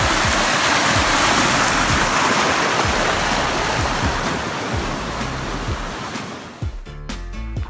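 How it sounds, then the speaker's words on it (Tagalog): Tanap Avis Falls in Ilocos Norte, Philippines: a powerful waterfall sends out a loud, continuous roar of rushing water, with faint scuffs and clatter near the end. "Ang lakas ng bulwak ng tubig oh."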